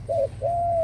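A caged dove kept for ornamental cooing gives two clear coos, a short note followed by a longer drawn-out one, close and moderately loud over a quiet low hum.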